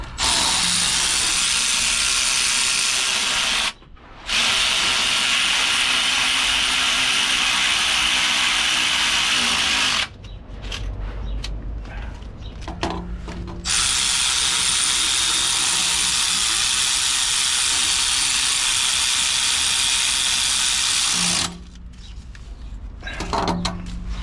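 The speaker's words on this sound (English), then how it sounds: "With a ratchet spanner." A ratchet spanner clicks in long, rapid bursts with short pauses during a clutch replacement on a 2010 Toyota iQ 1.0 with the subframe down in the rain, loud and close.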